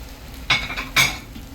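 Potato and fried eggplant are sautéed together in a pan for Arabic vegetable rice. Two quick, close scrapes of a stirring utensil sound over a faint background sizzle.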